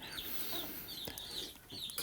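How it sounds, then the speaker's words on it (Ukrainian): Large domestic hens on a small farm cluck in short repeated bursts, close and fairly quiet, with a few sharper calls over a soft background. "Мої Курочки трохи, мабуть, відрізняються від других курей"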